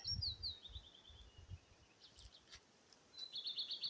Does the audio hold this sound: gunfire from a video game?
no